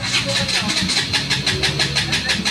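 KTM 200 motorcycle with a dirty throttle body and no spark at the ignition coil, its starter cranking in a steady rapid churning rhythm without the engine catching, close and loud.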